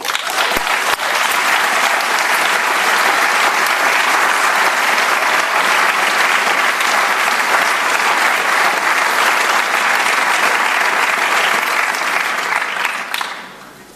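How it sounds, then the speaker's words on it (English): Long, loud, unbroken applause fills the hall from a graduation audience at the RSM MBA and EMBA ceremony. It holds steady for over twelve seconds before quickly dying away at the end. "We owe our partners, our friends, our families, our colleagues a big thank you and an even bigger round of applause."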